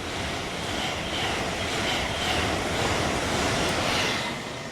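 A steady, broadband rumble and rush of a passing LNER Azuma electric passenger train at Cramlington railway station holds loud and even throughout, with no talking.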